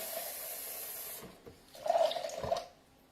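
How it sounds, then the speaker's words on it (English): Hot water runs and splashes into a large measuring cup for a couple of seconds, with a steady hiss beforehand and a few clinks nearby. "we're going to put in a cup of hot water"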